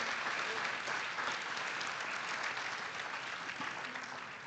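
Dense, continuous applause from a church congregation during a sermon, a steady even wash of many hands that fades slightly toward the end, moderately loud and without talk.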